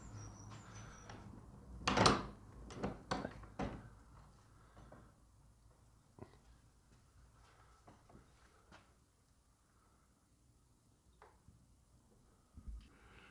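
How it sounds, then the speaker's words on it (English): An old nail-studded wooden church door from the 15th century, with battens and strap hinges, opening: a loud creaking clunk near two seconds, then several sharper knocks and rattles fading into quiet room tone. "we shall go through this 15th century door"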